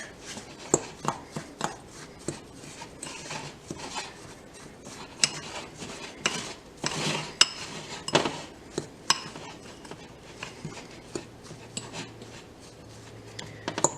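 Butter-coated cracker crumbs being tossed and stirred in a dish, with a steady run of light scraping, clinking and rubbing taps from a utensil against the dish, close and quiet with no talk.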